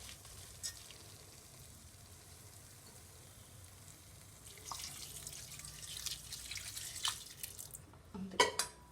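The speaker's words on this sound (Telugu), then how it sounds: "వాటర్ వేసేసుకున్నాం అనమాట" Water is poured into a pot of soaked basmati rice for spicy gongura pulao, a faint trickle that grows into splashing and bubbling near the end.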